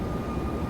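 An airliner's engines drone as a steady, dense roar from inside the cabin while the throttles are pulled back for the descent, with no voices.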